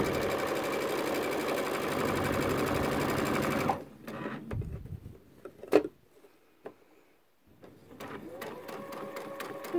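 An electric sewing machine stitching a quarter-inch seam on a Christmas stocking runs steadily and close for nearly four seconds, then stops, followed by scattered handling clicks and thumps and a brief resumed whir near the end.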